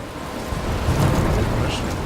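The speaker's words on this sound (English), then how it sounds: "I'm trapped in a storm?" A heavy rainstorm with thunder in the video game Life is Strange: dense, loud rain hiss with a rolling low rumble swelling midway, no speech.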